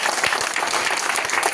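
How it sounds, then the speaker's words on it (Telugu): An audience claps at a motivational speaking event, a dense, even patter of many hands applauding steadily throughout the short moment, with no voices on top. "ఒకసారి క్లాప్స్ కొట్టండి"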